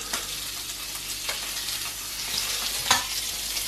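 Home-cured bacon fries in a pan with a dense, close, crackling sizzle, punctuated by a few sharper spits and pops, with no talking.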